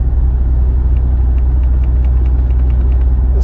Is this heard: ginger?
no